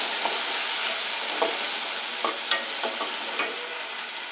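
Onion and tomato sautéed in a pan with curry leaves for a broad beans masala, giving a steady close sizzle broken by soft stirring scrapes and light clacks of the spoon against the pan.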